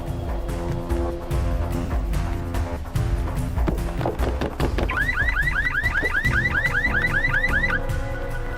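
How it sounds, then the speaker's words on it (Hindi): A green Volkswagen's car alarm wails in a fast repeating rising chirp, starting partway through and continuing loudly over a busy background of other noise. "वो गाड़ी का अलार्म बज रहा है।"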